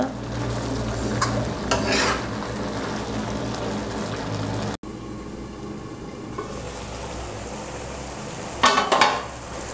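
Tomatoes with turmeric and salt cook in a covered pan for tomato pickle, giving a steady close simmering sizzle with a few sharp bursts of louder spattering, a brief cut midway and no talk.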